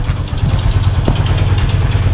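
Honda Supra 125 underbone engine in a custom motorcycle, idling steadily with a low, even chug throughout, close and fairly loud, with no talk over it.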